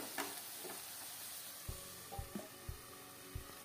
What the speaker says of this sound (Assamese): এতিয়া মই আলুটো আৰু 2 মিনিট সময় কাৰণে মই ভাজিম।